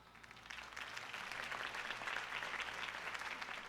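A crowd at a political campaign rally in the Batman Telltale game applauds continuously, a dense hiss of many hands that swells slightly and holds steady for a few seconds.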